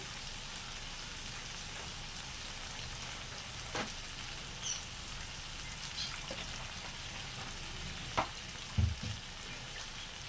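Water poured into hot masala for a tengra fish curry, the spiced oil sizzling in a steady hiss with a few small pops and stirring knocks near the end.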